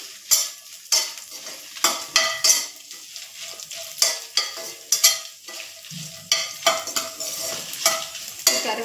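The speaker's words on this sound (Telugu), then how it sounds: "ఇది కొంచెం వేపుకోవాలండి బాగా." Dried red chillies with their seeds and a piece of tamarind fry in hot oil. A spatula scrapes the pan again and again in a brisk, uneven rhythm over a constant sizzle.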